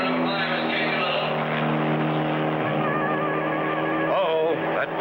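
Race cars roar around a track in a cartoon race, a continuous droning engine whine with a brief swooping pitch change near the end, loud and steady.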